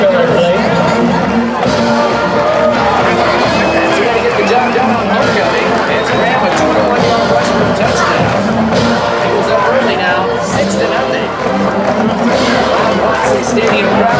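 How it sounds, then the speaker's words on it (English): A stadium crowd at a high school football game, Hobbs against Roswell, makes a loud, constant roar of cheering and chatter throughout, with a commentator's voice on top. "stadium crowd here welcoming"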